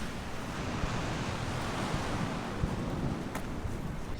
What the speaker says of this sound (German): man hört nichts außer das Meer